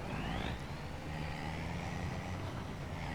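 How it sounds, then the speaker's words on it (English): A truck moving in Farming Simulator 25, a steady engine drone with a faint rising whine that runs evenly throughout, with no talk. "I'll move the truck out of the way."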